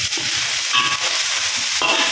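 Spices tempering for dhal curry sizzle and crackle in hot oil, a steady frying hiss with brief stirring scrapes, close up and loud.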